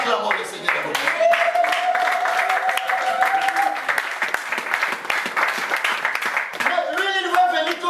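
A church congregation claps steadily in praise during a worship service, with voices rising over the continuous applause.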